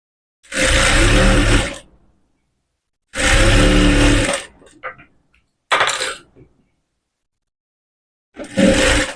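A sewing machine stitches umbrella fabric in four separate bursts of loud, close whirring, each lasting a second or two, with silent gaps between them.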